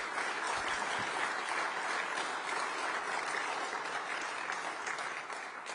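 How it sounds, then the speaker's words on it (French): Steady audience applause for press award winners at a French diplomatic association event, a dense, even wash of many hands clapping at moderate volume throughout. "On peut les applaudir,"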